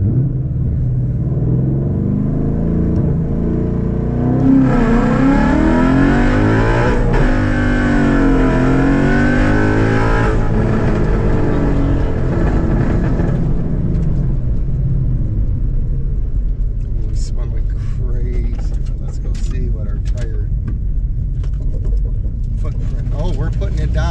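A street car with a Tremec manual gearbox and Granatelli 65k-volt coil packs launches hard in a 0 to 60 run, its loud close engine note climbing steeply through the gears, then dropping back to a low rumble while people talk excitedly.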